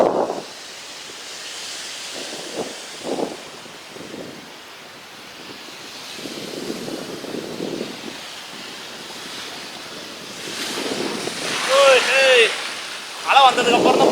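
Ocean waves washing onto a sandy beach while cycling along wet sand, a steady rushing surf with wind buffeting the microphone; people talk and call out over it at times.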